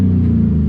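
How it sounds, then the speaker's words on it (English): Loud pickup truck with a 4.8 engine idling and revving, a steady deep rumble close by with no talk over it. "I figured I'd show up with my loud ass truck now."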